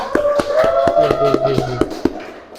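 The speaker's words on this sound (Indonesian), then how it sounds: "Tepuk tangan" A small audience at a teacher training session clapping hands, sparse distinct claps with a few sharp slaps standing out, while a voice talks briefly underneath.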